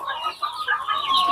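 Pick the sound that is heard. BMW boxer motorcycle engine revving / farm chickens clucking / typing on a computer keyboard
farm chickens clucking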